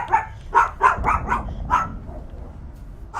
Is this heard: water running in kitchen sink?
no